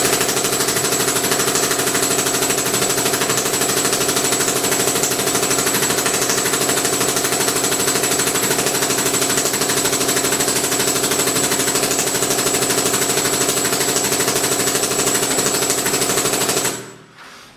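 SP-1 .50 caliber paintball marker converted to a GI50 vertical feed firing a long, fast, continuous stream of shots at close range, loud and steady with no talking, cutting off abruptly near the end.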